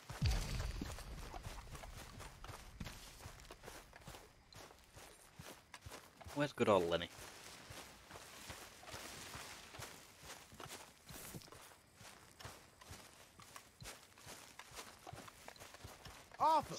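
Horse hooves clip-clop at a walking and trotting pace in the Red Dead Redemption 2 video game, steady and fairly close, with spoken dialogue over the top.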